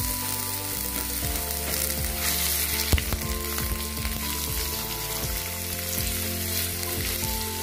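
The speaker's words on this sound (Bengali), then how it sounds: "এবারে কেটে রাখা মূলো আর গাজরটা দিয়ে দিচ্ছি" Chopped radish and carrot go into oil with five-spice for a spinach chorchori, producing a dense, loud, continuous sizzle with occasional stirring knocks against the pan.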